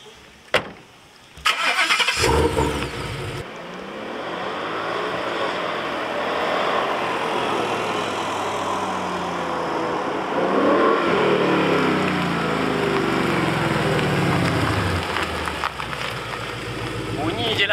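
Ford Mustang GT V8 starts with a sharp burst and then rumbles loudly at close range, rising into sustained revs that swell and fall, with some talk in the background.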